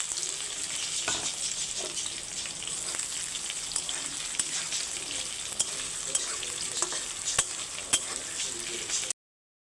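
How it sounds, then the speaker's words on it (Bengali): Chopped onion with cardamom, cinnamon, cloves and bay leaf fries in hot oil in a kadai, giving a continuous crackling sizzle. Scraping stir strokes and small pops rise above it near the end. "পেঁয়াজগুলো ভাজা ভাজা হয়ে গেছে"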